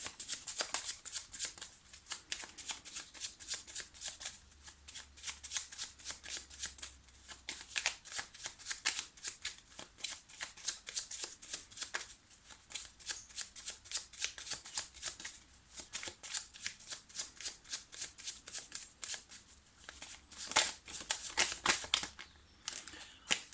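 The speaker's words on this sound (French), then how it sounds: "me concentrer sur votre question, sur votre demande, pendant que je mélange les cartes" Lenormand oracle cards being shuffled, a steady run of quick papery riffles and soft flutters that continues alone and close by, with brief denser bursts near the end.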